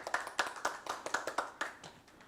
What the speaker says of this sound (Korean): 박수로 좀 맞아주세요.